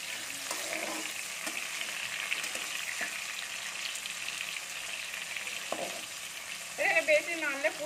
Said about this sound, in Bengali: এখানে তেল গরম হয়ে গেছে, আমি দিয়ে দিচ্ছি ইঁচড়, পুরো ভেজে নিচ্ছি একটা একটা করে।